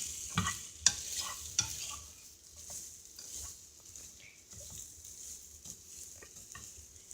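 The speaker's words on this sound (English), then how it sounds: "we're going to stir it just a little bit more while the pan is still hot" A spoon stirs a breakfast scramble in a hot pan, with soft scraping strokes and a few sharper clicks over a faint sizzle, fairly quiet and without talk.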